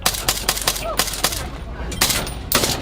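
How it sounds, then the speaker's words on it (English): Gunfire cracks along a street in Haiti as rapid bursts of loud, close shots that come in uneven clusters, with a voice faintly under the noise. "It's not long before we come under fire."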